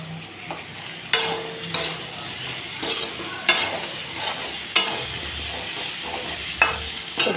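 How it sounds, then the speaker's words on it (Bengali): Eggplant frying in a pan, a steady close sizzle with periodic stirring scrapes and clinks breaking through at regular intervals, no voices. "এখন ভেজে নিচ্ছি বেগুন"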